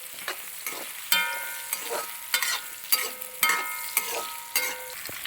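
Avial vegetables and drumstick pieces are stirred in a pan, a quiet sizzle broken by about ten distinct scraping, clattering strokes of the spoon at an irregular pace.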